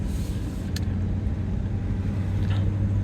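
Chevrolet Silverado pickup truck driving around the block, a steady low engine and road rumble heard from inside the cab, continuous and fairly loud with a faint click or two on top.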